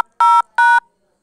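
Two separate telephone keypad DTMF tones, each lasting about a fifth of a second, sounding loud and clear one after the other while a mailbox number is entered at a voicemail system prompt.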